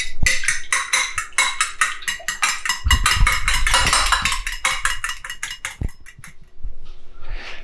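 Fork whisking an egg in a deep plate, brisk rhythmic metallic clinks against the dish at close range, steady beating with a brief pause and a few final taps.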